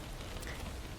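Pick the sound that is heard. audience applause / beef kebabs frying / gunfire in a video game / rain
rain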